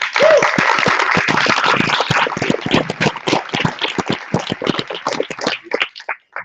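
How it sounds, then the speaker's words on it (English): Audience applause at a startup conference, a dense burst of clapping that thins into scattered individual claps before fading out. "So join me in applauding."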